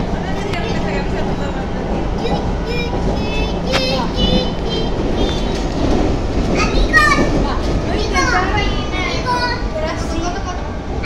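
Subway train running between stations on the Buenos Aires subte, a loud continuous rumble with squealing wheel and rail screeches, while people talk over the noise.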